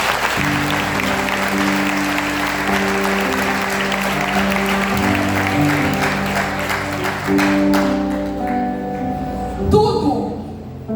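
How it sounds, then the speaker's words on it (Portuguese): A church congregation applauds steadily throughout, a dense wash of clapping with music sustaining beneath it, before the sound thins out near the end. "Você pode aplaudir o Senhor?"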